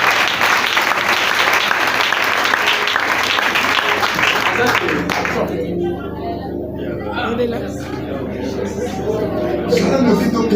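A church congregation at an evangelical convention breaks into loud, sustained applause mixed with cheering voices, filling the room for several seconds before thinning into scattered clapping and chatter.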